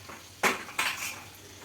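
Two sharp metallic clanks ring out as food is crushed in a pan, close up, followed by faint scraping and a soft sizzle, no talking.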